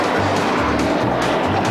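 A car pulls away with a steady, fairly loud engine drone and broad road noise, the pitch shifting slightly as it drives off.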